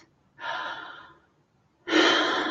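Two deep, slow breaths taken with conscious control: a long airy inhale, a pause, then a louder, rushing breath close to the mic, with no talking.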